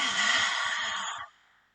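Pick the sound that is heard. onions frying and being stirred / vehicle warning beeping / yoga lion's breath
yoga lion's breath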